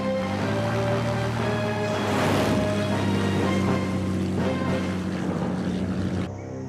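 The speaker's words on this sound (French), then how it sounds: "Permission de décoller, à vous." A light aircraft's engine and propeller drone steadily and loudly with a strong tonal hum, swelling briefly near the middle, then cut off abruptly near the end.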